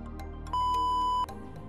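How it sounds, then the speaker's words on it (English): A single short electronic beep from a wheelchair joystick control module, steady and clear, sounds briefly over quiet background noise. "until a short beep is heard, and then release"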